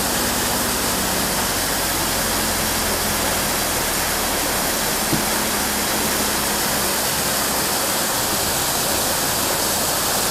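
Steady loud rushing of water from a stream or waterfall along the road from Kathmandu to Rasuwa, a continuous broadband roar that fills the whole stretch without a break.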